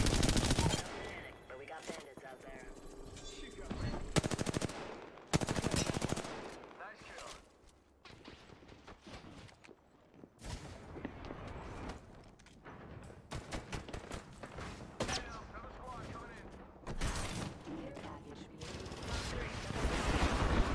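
Gunfire in Apex Legends, with loud bursts of automatic fire, single shots and weapon handling sounds running through most of the stretch, under a player's occasional talk.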